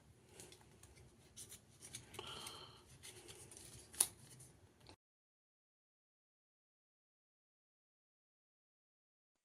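Scissors snip through the old piece of a pink leather handbag, a few faint close crunching cuts and rustles over about five seconds, followed by silence.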